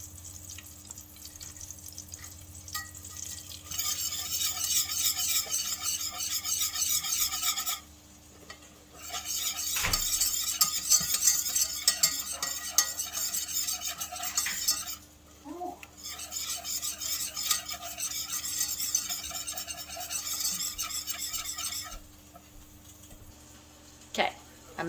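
A spoon scrapes and swirls steadily through a Velveeta roux in a pan, a continuous raspy stirring broken by a few brief pauses and small knocks.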